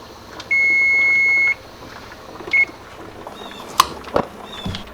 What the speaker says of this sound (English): Timer is done, heat is off